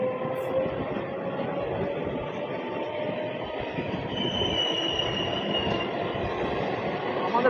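A Rampurhat–Bardhaman MEMU local train accelerating, heard from on board as a steady, loud rumble of wheels and motors with a faint rising tonal whine partway through.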